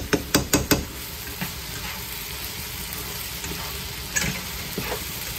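A tuna cutlet mixture with potato sizzles softly in a pan, with a few sharp clinks of a spoon or spatula against the pan at the start and a couple more later, and no talking.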